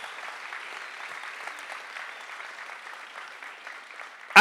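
A science slam audience applauds a volunteer on stage, a steady, moderately distant wash of clapping that holds even throughout.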